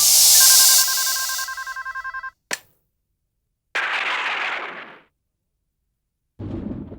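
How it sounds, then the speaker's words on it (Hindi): A telephone rings in a rapid electronic trill, then a sharp bang, a burst of noise and a low rumble follow, with silent gaps between. "मुझे प्रमोद का फोन आया।"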